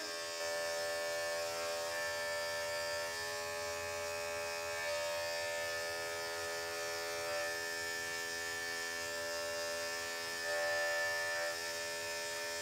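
Electric clippers shave a matted Maltese dog's fur, giving a steady, fairly faint electric buzz with a constant hum that continues unbroken with no voices.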